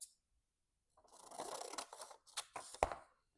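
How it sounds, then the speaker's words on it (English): Scissors snip through journal paper pieces up close, a series of crisp cutting and rustling strokes with short pauses between them and no talking. "I'm going to cut these apart"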